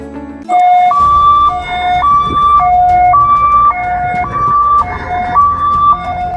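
A loud two-tone ambulance siren wails steadily, alternating between high and low pitches in a regular rhythm, close and clear with no talking.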